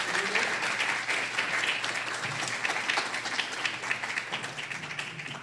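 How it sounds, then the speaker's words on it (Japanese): Audience at a peace and disarmament symposium applauds to welcome a speaker, steady moderate clapping from a seated crowd throughout, fading slightly toward the end. "皆様拍手でお迎えください。"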